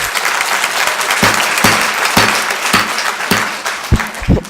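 Audience applause breaks out at a county planning and zoning and board of commissioners meeting, a sustained wash of many hands clapping in a room, with a few louder, closer claps near the end.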